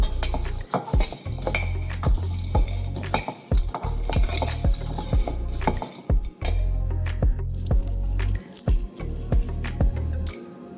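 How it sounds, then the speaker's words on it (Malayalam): Chickpeas rattle and scrape against a pan as they are dry-roasted and stirred repeatedly, with a faint sizzle underneath and no talking. "ഈ കടലയെ ഒന്ന് ചെറുതായിട്ടൊന്ന് വറുത്തെടുക്കാം"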